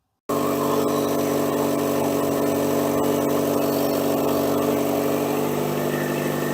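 A Buick Encore engine with a new exhaust resonator idles steadily and alone, a low, even drone with a smooth resonant hum and no other sounds throughout.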